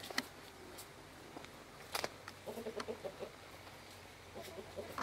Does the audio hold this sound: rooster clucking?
yes